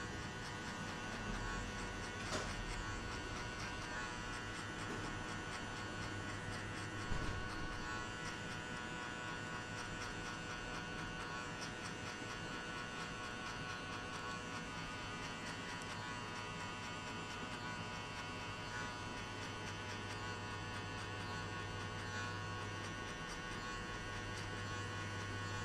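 An electric hair clipper cutting a high fade after a buzz cut gives a steady, continuous buzz over a low mains-like hum, fairly quiet and with no talking.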